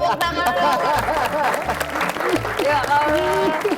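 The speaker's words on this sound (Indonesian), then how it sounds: "Tepuk tangan." Audience applause and crowd chatter fill a studio setting, with talking and laughter layered over a steady wash of clapping.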